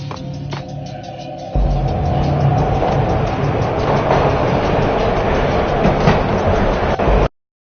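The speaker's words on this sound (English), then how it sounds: "This was my second train ride of the night." A video game train ride starts with a sudden onset into a loud, steady rumble and rattle of rolling wagons with faint clicks. The noise holds evenly until it cuts off abruptly.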